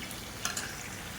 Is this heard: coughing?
no